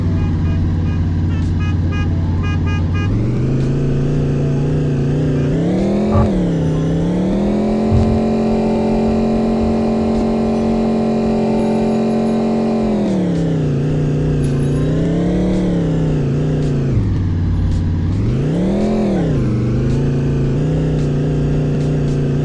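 A car engine in a taxi driving game on an offroad hill road hums steadily, then revs up and down in repeated loud swells, each climbing and falling in pitch, with no talking.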